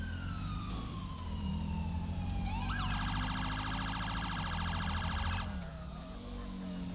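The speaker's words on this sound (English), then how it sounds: "I wish he would turn his siren off." Police car siren in the GTA V LSPDFR video game, a loud electronic wail that rises and then switches to a rapid yelp sweeping for a few seconds before cutting off, over steady engine and ambient game noise.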